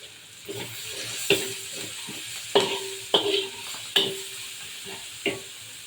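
Pulichai keerai greens sauté in a pan for a sardine dish, with a soft sizzle under a series of distinct spatula scrapes and knocks against the pan, roughly one every second.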